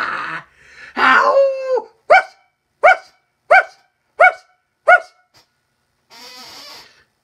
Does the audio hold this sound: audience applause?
no